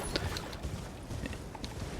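Horse hooves gallop at a steady, rapid clip-clop in the video game Elden Ring, loud and continuous throughout with no voices.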